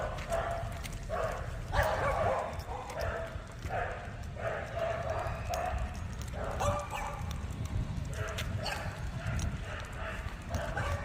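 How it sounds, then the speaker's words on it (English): Several dogs bark repeatedly from around a residential development, a rhythmic series of sharp barks spread over the walk, some fairly close, mixed with footsteps and outdoor background noise. "All of these dogs barking."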